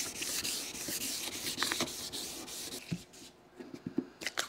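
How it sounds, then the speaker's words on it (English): Sandpaper rubs back and forth over a hard acrylic window surface in uneven strokes, close and fairly quiet, with a few brief pauses. "When your sandpaper starts to grab like that, you know you got a pretty smooth surface."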